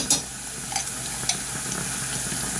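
Minced garlic sizzling in a pan with onions, a steady close frying crackle with a few scraping stirs and light utensil clicks near the start.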